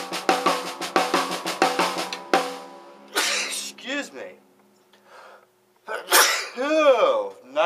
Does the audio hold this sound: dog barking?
no